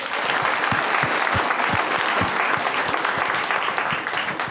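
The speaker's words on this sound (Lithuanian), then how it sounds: "Plojimai" Studio audience applause fills a Lithuanian comedy panel show, a dense, steady clapping with a few sharper individual claps standing out, loud and close throughout.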